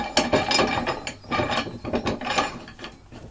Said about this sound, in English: Then we put the wing nut on the bottom and wind that all the way up.